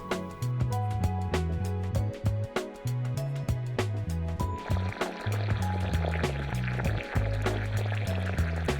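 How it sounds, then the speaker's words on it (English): Mushroom broth pours steadily over glass noodles and marinated beef in a pot, a continuous liquid splash running beneath prominent rhythmic background music. "Pour the mushroom broth over everything and bring it to a boil."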